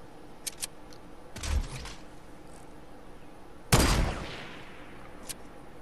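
Two sharp bolt-action sniper rifle shots in Fortnite, the first around 1.5 seconds and a louder one near 3.7 seconds, each trailing off briefly, with small clicks between and no talking.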